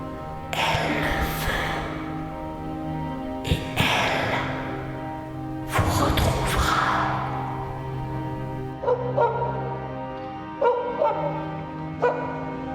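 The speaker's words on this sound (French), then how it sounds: "Il se retourna vers son chien qui venait d'aboyer" A dog barks several times in a row, loud and close, over a steady musical background, followed by a few quieter, shorter yips and whimpers near the end.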